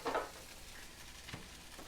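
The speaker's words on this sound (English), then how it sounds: "you really want to start trying to scrape up all the little bits of our fond that are at the bottom of the pan" Scraping fond from the bottom of a sizzling pan of seared scallops, a scrape burst at first over steady frying hiss, then another brief stroke.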